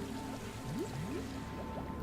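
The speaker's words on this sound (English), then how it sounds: "Why is the water bubbling? I can hear it bubbling" Water bubbles in The Wild Eternal video game: a soft, steady watery wash with a few gurgling, rising bubble tones, fairly faint and continuous.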